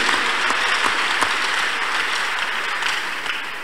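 Church congregation clapping their hands during a praise and thanksgiving service, a steady, full wash of applause that fades slightly toward the end.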